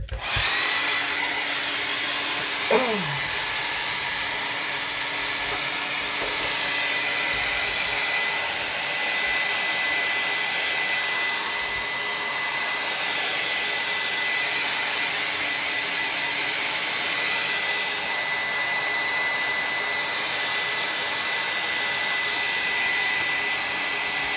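A hair dryer drying a watercolor landscape painting, a steady loud close whirring hiss that runs without pause and with no talk.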